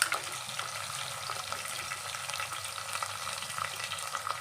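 Cumin and other tempering spices fry in hot oil for a brinjal masala curry, giving a steady, close sizzle with faint crackles and light stirring throughout, no voices.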